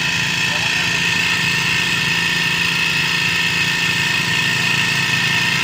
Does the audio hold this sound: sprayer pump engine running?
yes